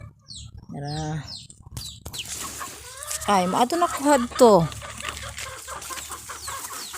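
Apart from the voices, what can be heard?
chickens clucking on a farm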